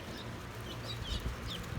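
Guinea fowl and turkeys call faintly and far off on a farm, the occasional squawks barely rising above a steady wash of outdoor noise.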